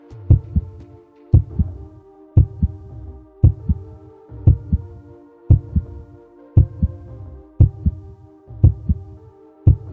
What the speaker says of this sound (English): It's the sound of your own heart,